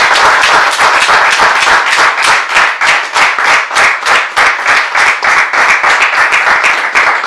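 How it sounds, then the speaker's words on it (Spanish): Audience applause from a small group, loud and close, settling into a strong, regular rhythmic clapping in unison that beats steadily for several seconds. "te vamos a dar un aplauso"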